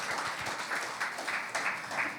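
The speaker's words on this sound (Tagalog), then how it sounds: "Can we give the Lord a clap offering of praise?" A church congregation claps as an offering of praise to the Lord during a sermon, with moderately loud, continuous applause that swells in a few pulses and has no speech over it.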